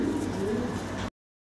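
Pigeons at a pigeon seller's collection coo in a short, busy burst over a noisy background, ending abruptly after about a second.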